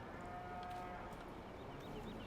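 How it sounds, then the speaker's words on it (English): Dairy cows lowing in Farming Simulator 15, a steady mooing that holds over a busy farmyard ambience for a couple of seconds, with no talking. "That's the dairy cows."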